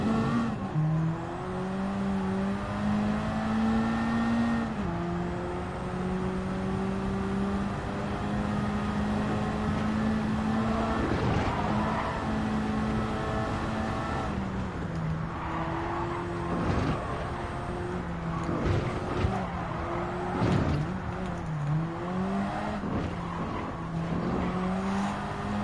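A race car laps the Nürburgring in Gran Turismo 7, its engine whining and rising through the gears, dropping sharply under braking, and then climbing again, with faint tire noise.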